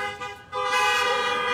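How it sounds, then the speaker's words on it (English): Car horns honk from vehicles parked at an outdoor drive-in Advent candle lighting service, several overlapping sustained toots sounding loud and close after a short dip. "Can I get a honk from those of you that are in your vehicles"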